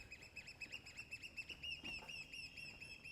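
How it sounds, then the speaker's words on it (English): Small birds chirp and tweet in rapid repeated calls around old stone windows, a steady rhythmic stream of high notes with faint wing flutters mixed in, fairly distant. "There's a male bird chasing after a female bird with lust in his eyes up here."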